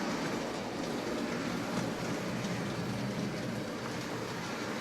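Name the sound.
Hornby Dublo model train pulling 1P engine and two grain wagons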